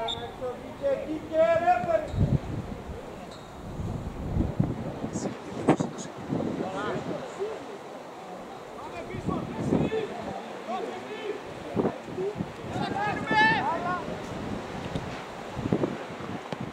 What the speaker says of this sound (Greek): Συνεχίζει ο δυνατός άνεμος. Βουριάς.